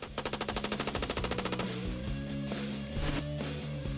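An M-16 rifle fires a rapid automatic burst, a tight rhythmic string of loud shots that blurs into a dense roar with musical tones underneath.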